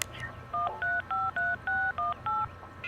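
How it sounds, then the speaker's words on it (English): Eight crisp dual-tone beeps from a cell phone keypad being dialed, evenly spaced in a quick run over a faint low hum, with no talking. "I took out my cell phone and dialed the first numbers from my contact list."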